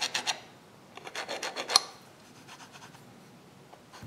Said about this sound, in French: Après avoir trouvé le centre, j'ai juste à marquer le centre de chaque côté.